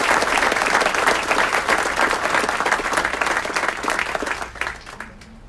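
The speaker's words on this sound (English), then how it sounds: "Another big round of applause to our new sergeant." A council chamber audience gives a big round of applause for a newly promoted police sergeant, loud, dense clapping that holds steady, then thins and dies away near the end.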